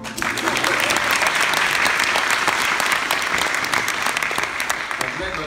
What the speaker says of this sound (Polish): Proszę, brawa.